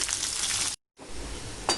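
Onion sizzles loudly in hot oil in a kadai for a veggie upma, a steady close crackling hiss that cuts out briefly mid-way, then resumes with a sharper burst near the end.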